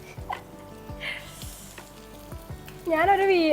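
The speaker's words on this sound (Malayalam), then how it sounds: "ഇവിടെ ഫിഷ് ഫ്രൈ ആകുന്നുണ്ട്." Fish sizzles in a hot pan, a steady crackling fry with intermittent clinks and stirring, and a voice briefly rises over it near the end.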